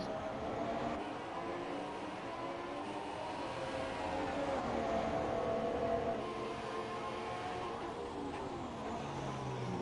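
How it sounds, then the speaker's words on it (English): An IndyCar race car engine drones steadily as the driver works the throttle through the esses at a USA circuit, a continuous mid-distance roar with rising and falling engine tones. "You can really hear him working that throttle coming out of that S's."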